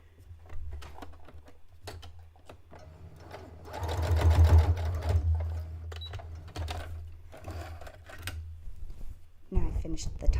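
A sewing machine runs in a fast mechanical whir as it stitches along a folded fabric edge on a drawstring backpack, building to a loud steady run midway, with a person talking over parts of it.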